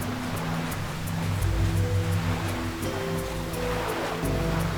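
Ocean waves wash steadily in a video game, with a continuous surf roar running under layered sustained musical tones and periodic faint clicks.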